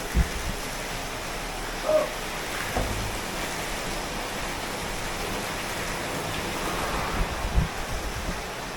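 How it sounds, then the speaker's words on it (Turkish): Heavy rain pouring steadily outdoors at a home on a wet night in Pattaya, a dense continuous hiss with no voices, fairly loud and even throughout. "gürül gürül yağmur yağıyor"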